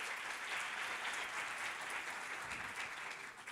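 Audience applause for members of an association board, a continuous wash of clapping from a seated crowd, even and sustained, somewhat distant and soft, with no talk over it.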